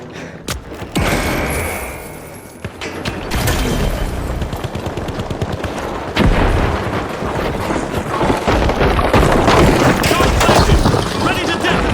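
RPG blasts and C4 explosions in the first-person shooter The Finals during a ranked match, with loud booming detonations, gunfire and rumbling debris filling the scene continuously from near.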